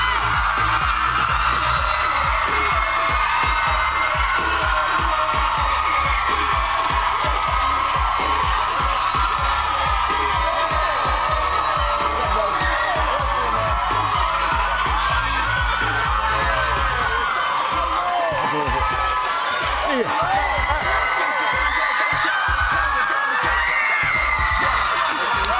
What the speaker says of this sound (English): Give a big round of applause for